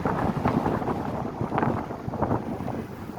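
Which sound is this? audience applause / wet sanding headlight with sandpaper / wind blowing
wind blowing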